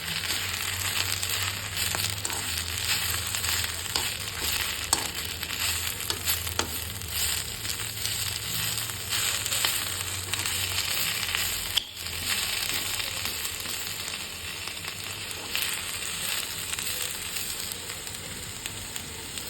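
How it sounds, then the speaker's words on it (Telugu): Fenugreek leaves, tamarind, chillies, cumin and coriander seeds fry in a spoonful of oil, a steady dense crackling sizzle with light crunchy stirring, continuous and close. "మెంతయ కూర చింతపండు మిరపకాయలు జీలకర్ర ధనియాలు ఇవన్నీ కొంచెం స్పూన్ వేసి ఒక స్పూన్ నూనె వేసి ఫ్రై చేసుకోవాలి"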